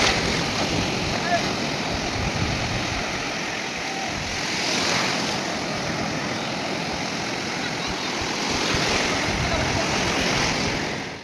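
Waves on Gokarna beach in Karnataka give a loud, steady wash of surf with gusting wind buffeting the microphone throughout, and people can be heard faintly in the background.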